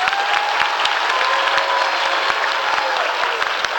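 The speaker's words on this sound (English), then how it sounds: "A big round of applause for them." A school annual fun show audience applauds its teachers with dense, steady crowd clapping that stays even in loudness throughout, with sharp individual claps standing out.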